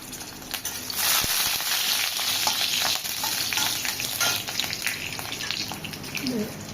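Dried and green chillies, cardamom, cinnamon, bay leaf and salt fry in hot oil with a loud, dense, close sizzle and crackle, with pops and stirring scrapes throughout.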